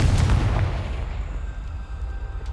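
A Confringo explosion spell goes off in Hogwarts Legacy: a loud, deep blast at the start that rumbles and slowly fades over two seconds.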